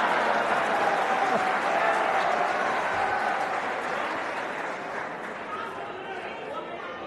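A big crowd at a political speech keeps up broad, continuous applause mixed with a murmur of chatter, loud at first and then slowly easing off toward the end.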